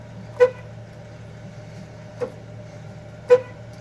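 Horn on a Jeep YJ honks three short separate toots at about 0.4, 2.2 and 3.3 seconds, the first and last loud and the middle one softer, over a steady low idle hum.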